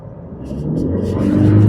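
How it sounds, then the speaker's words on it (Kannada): Toyota Fortuner Legender SUV with a 48V hybrid system accelerating in normal mode, engine rumble rising steadily in pitch and loudness over a short burst, heard from inside the cabin. "ಒಂದು ಸ್ವಲ್ಪ ಪುಷ್ ಮಾಡ್ತೀನಿ ನೋಡಿ ಗಾಡಿ."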